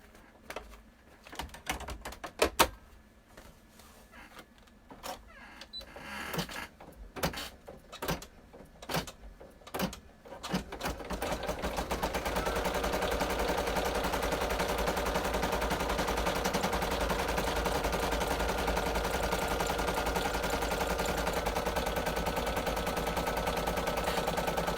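An embroidery machine stitches down the lining of a treat pouch in the hoop. Scattered mechanical clicks and taps give way to a loud, steady, continuous whirring drone that carries on without talk.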